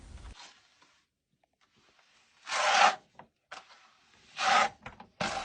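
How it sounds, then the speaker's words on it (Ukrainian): Trowel spreading decorative plaster mortar over a primed, dry interior wall, giving a few separate close scraping and smearing strokes with quiet pauses between them. "Цей розчин ми почали наносити на прогрунтовані наші сухі стіни."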